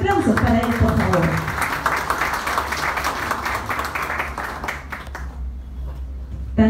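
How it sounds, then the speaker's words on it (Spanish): An audience at the opening of an Ica table-grape export campaign applauds the SENASA executive director, with steady, full clapping throughout that fades toward the end. "Fuerte los aplausos para él, por favor."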